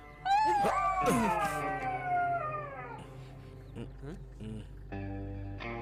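A fox in a movie scene lets out a loud, wavering howl that slides downward, followed by a few short, fainter yips in a quiet setting.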